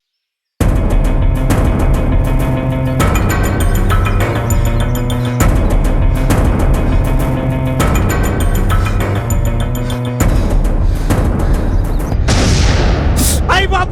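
A bomb blast scene in a Telugu comedy short film, with loud, repeated booming bursts over a dense rhythmic backdrop and a sharp final burst near the end.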